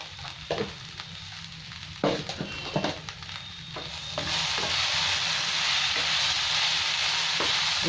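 Sabudana poha fries in a pan while a spoon stirs and scrapes it in a few sharp knocks, then the sizzling swells into a steady, louder hiss that carries on to the end.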